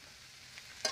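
Water poured into a frying vegetable curry in a hot pan: a low, steady sizzle gives way at the very end to a sudden bright hissing burst, quiet overall.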